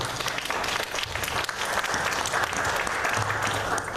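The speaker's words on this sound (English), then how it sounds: "I told you I was going to get a round of applause before." Sustained applause from the audience at a Sauk Village regular board meeting, a steady, dense wash of many hands clapping together that holds at an even level for the whole stretch.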